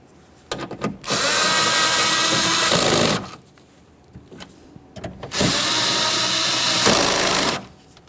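A power tool whirs in two bursts of roughly two seconds each, tightening the window regulator mounting nuts inside the rear door of a 1994-1997 Honda Accord, close and fairly loud, with short quiet gaps and light clicks between runs.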